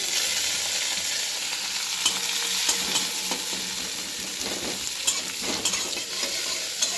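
Onion frying in a pan while being stirred, a continuous bright sizzle with scraping stir strokes at irregular intervals, close and steady with no talking.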